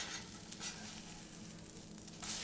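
A coconut flour crepe sizzles quietly in a pan, a soft steady frying hiss with a brief scrape as it is flipped; no voices.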